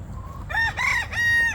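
A silver laced Polish rooster crowing close by, a loud multi-part cock-a-doodle-doo lasting over a second with no talk over it.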